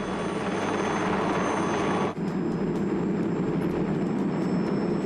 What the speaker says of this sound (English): Testbed was the 16H-1 Pathfinder, Piasecki's first single main-rotor helicopter since the early PV-2.